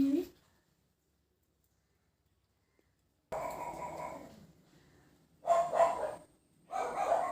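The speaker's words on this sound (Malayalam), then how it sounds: "ഇല്ല പട്ടി വരുന്നത് കേട്ടോ" A dog barks in a few loud, close bursts after a stretch of near silence, with short pauses between them.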